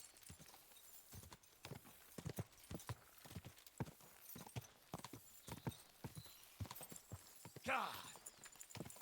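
Rapid, rhythmic hoofbeats of a galloping horse in a video game, close and steady, with a brief whinny near the end and some talk mixed in.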